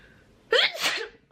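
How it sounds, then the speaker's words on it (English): A single sharp, loud sneeze bursts out close by after a brief quiet breath, trailing off quickly. "Oh my god, I feel like sneezing."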